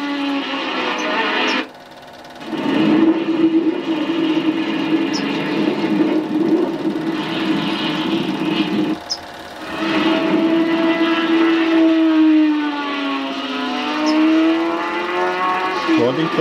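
A McLaren race car engine howls past at a 1976 airfield race in Mainz-Finthen, loud and sustained with rising and falling pitch through gear changes and a brief dip, recorded on old Super 8 film with background voices.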